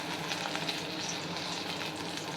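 Katla fish fries in a pan with a steady, close hiss and sizzle that holds evenly throughout, with light crackles scattered through it.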